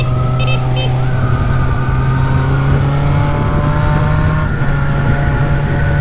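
A Honda Hornet motorcycle engine idles with a steady low drone and then revs up, its pitch climbing and holding at a loud, close level with no letup.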